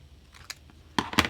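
Scissors cut paper for a simple Santa craft, two or three quick crisp snips close up near the end after a faint rustle.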